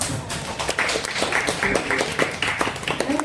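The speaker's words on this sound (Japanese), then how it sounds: "大きい拍手をお願いします。" A crowd at an African restaurant and club event in Osaka applauds, a busy mix of clapping with a few cheers and voices over it, fairly close.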